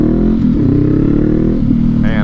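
A 2019 Honda CB500X motorcycle engine drones loud and steady while riding, with a low even rumble and slight rise and fall in revs, and a voice talks briefly near the end.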